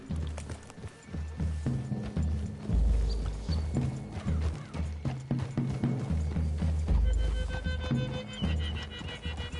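Horse hooves clip-clopping through trees in Red Dead Redemption 2, a steady rhythmic plodding of several mounts mixed with creaking tack and low game ambience, fairly close and continuous.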